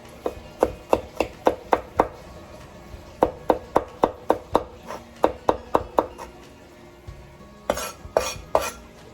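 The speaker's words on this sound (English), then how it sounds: "You can put the garlic just like that, or chop it roughly too." Garlic chopped roughly with a knife on a cutting board for chicken and pork adobo: a steady run of sharp, close chopping knocks in quick bursts, with a few louder clatters near the end and no speech.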